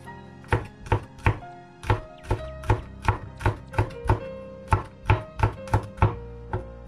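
A knife chops fresh green onions just pulled from a garden, striking a cutting board in sharp, close, evenly spaced strokes, about a dozen in quick succession over light background music.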